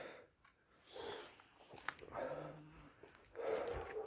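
A dog gnaws and chews on a piece of wood outdoors near a chopping block, producing soft, irregular crunching bites with short pauses, quiet and close.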